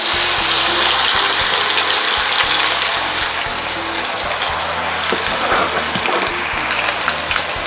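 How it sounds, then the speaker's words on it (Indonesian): Ground spice paste being stir-fried in a large batch of sambal goreng with potato, chicken liver and gizzard, a loud, steady sizzle and hiss with continuous frying crackle throughout. "Saya tumis dulu bumbu yang sudah dihaluskan."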